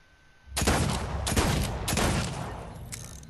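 Gunfire bursts from a weapon in the video game Fortnite, coming as a few dense, loud volleys in close succession that run nearly continuously for about three seconds with no talking.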